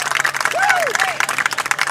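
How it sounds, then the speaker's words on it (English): Elk Mound fans at a WIAA regional final baseball game cheer and clap in a steady outdoor roar, with a few whoops and shouts rising above the applause. "You can hear the Elk Mound faithful cheering him on behind me."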